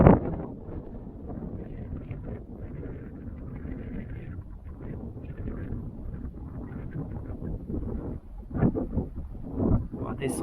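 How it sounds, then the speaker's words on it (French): Strong wind buffets the microphone in a constant low roar, with brief louder gusts near the end. "Il y a beaucoup de vent."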